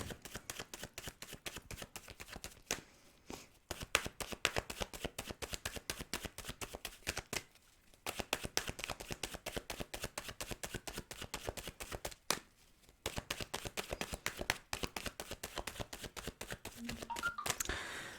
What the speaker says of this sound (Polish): karty delikatnie przemielę, żeby poczuły tutaj moją energię